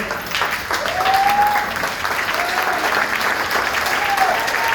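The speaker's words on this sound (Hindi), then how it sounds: "प्लीज एक बार खड़े होकर उनके लिए सभी तालियां बजाएंगे" An audience at a company network-marketing gathering stands and applauds, a steady dense clapping that holds throughout, with a faint whistle-like tone rising over it a few times.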